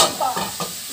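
Boiling water hitting a hot pan, a short burst of hissing sizzle and bubbling splash, close and fairly loud with no voices.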